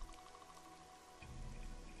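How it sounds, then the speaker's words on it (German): Rain falls steadily in the video game Risen 2 as a soft, even patter. It thickens into a heavier, fuller wash partway through, with no voices. "und es regnet"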